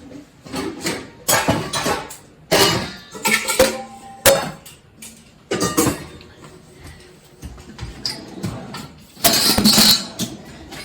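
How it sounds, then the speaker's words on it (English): Dry ingredients for snickerdoodles are stirred together in a bowl, giving intermittent clinking and scraping bursts of a utensil against the bowl, close and fairly loud, separated by short pauses. "now we mix all the dry ingredients together"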